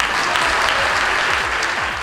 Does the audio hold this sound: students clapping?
yes